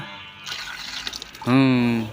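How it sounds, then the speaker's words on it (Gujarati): Tap water runs into a vessel with a soft trickle that swells into a louder, rising filling tone near the end, with brief talk beforehand. "પાણી ચાલુ છે,"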